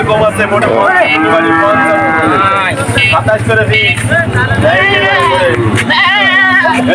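Goat kids bleat at a livestock market in Betaga, giving several wavering, nasal cries in quick succession up close, over a steady low hum and crowd noise.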